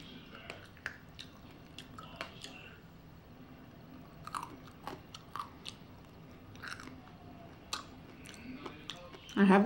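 Close, quiet chewing of crunchy macaroni and cheese pizza, irregular bites and mouth clicks spread throughout, ending in a louder burst.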